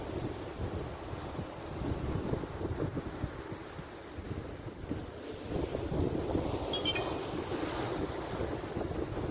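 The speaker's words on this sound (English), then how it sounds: "Big swell coming in." Heavy surf and swelling waves of the North Sea rumble continuously on the Holderness coast, with wind buffeting the microphone and surges rising and falling.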